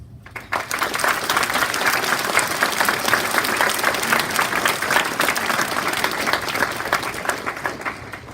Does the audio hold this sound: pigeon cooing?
no